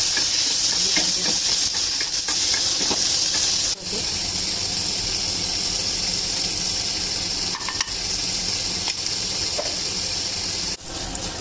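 Loud, steady hissing sizzle with a broad wash of steam, continuous throughout, a sharp break partway as water hits a hot pan of spiced paneer gravy.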